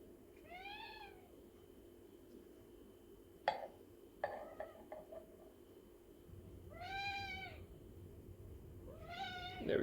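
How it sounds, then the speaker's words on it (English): A cat begs for milk near a Breville Barista Pro BES878 espresso machine, giving three clear, drawn-out meows spread across about ten seconds, with a few clinks in between and steady machine hum underneath. "my cat is begging me to have some milk"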